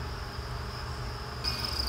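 Crickets, five weeks old, chirp in a continuous high trill, thin and steady, getting a bit louder near the end over a low background hum.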